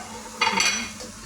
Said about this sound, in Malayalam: റൈസ് ഇട്ടിട്ട് നല്ല മിക്സ് ചെയ്യണേ.